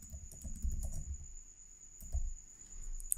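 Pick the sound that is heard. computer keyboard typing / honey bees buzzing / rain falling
computer keyboard typing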